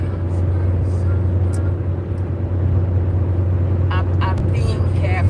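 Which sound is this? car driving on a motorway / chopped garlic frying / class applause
car driving on a motorway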